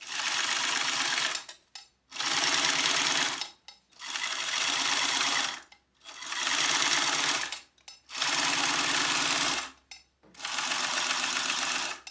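A sewing machine top stitches a fanny pack band at an eighth-inch seam allowance, running in six rapid whirring bursts of about a second and a half each, separated by brief pauses, close and clear without talk.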